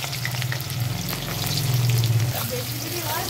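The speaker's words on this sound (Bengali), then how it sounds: "তা পেঁয়াজের বেস্তা ভেজে নেব" Sliced onions frying in hot oil to make crisp bresta for homemade chicken biryani, a loud, close, continuous sizzle with a low bubbling undertone that swells midway.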